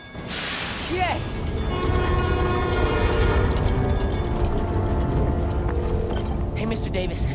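Subway train in the video game Spider-Man: Miles Morales, a loud rumbling rail roar with metallic whines and screeching tones building after a short start, close and continuous, with speech-like voices mixed in.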